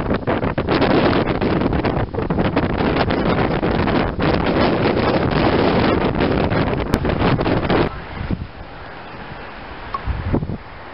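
Loud wind roars across a rocky overlook at Bucks Canyon in Canyonlands, buffeting the microphone in a steady rush for most of the time before easing into softer gusts near the end.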